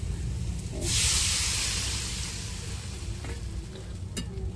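Water poured into a pan of sizzling fried spice paste for a Bengali tengra fish curry, a sudden loud hissing burst of steam that gradually fades to a softer sizzle.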